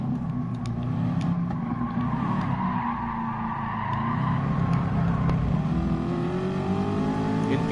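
A Corvette C7 in a Gran Turismo race brakes hard into a long, continuous tire skid, layered over a steady, droning engine note. The engine and tires stay loud and close throughout, with no voices.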